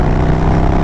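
A Harley-Davidson Sportster fitted with Vance Hines Mini Grenades exhaust runs loud and close, a dense continuous low rumble with no talk over it.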